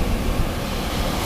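Sea waves wash onto a beach in a steady, dense roar, close and continuous, mixed with wind buffeting and no talk.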